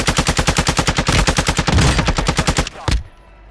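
Rapid automatic gunfire in a Call of Duty Warzone match on Ashika Island, a loud, evenly spaced burst of shots followed by a brief pause, a final single shot and a quick fade.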